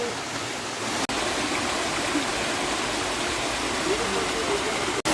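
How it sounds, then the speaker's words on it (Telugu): Steady rushing of a small, cold waterfall stream in Araku, a continuous broadband splash close by with no pauses. "ఇక్కడి నుంచి పడుతున్నాయి వాటర్ అన్నది, చాలా చిన్న దార"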